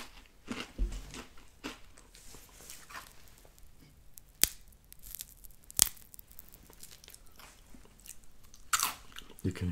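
Dry Cinnamon Toast Crunch cereal eaten without milk, with irregular close crunches and chewing bursts, a few sharp louder bites standing out over soft mouth sounds.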